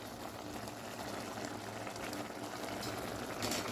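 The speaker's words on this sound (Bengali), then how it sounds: "তো এইভাবে আমি শাকটা রান্না করে নিচ্ছি" Spinach with small shrimp simmering in a pot gives a steady, close bubbling hiss that holds even throughout, with no talking.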